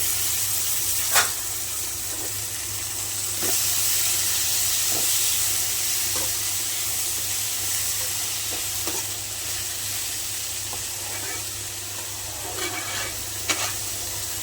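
Tomatoes going into frying onions and garlic for a shark fish curry, a loud continuous hiss and sizzle with occasional spoon taps against the pan, no speech.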